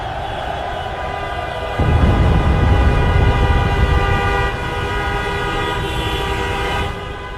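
Loud, sustained traffic horn blasts on Indian roads sound continuously, overlapping and droning with a rumbling vehicle underneath.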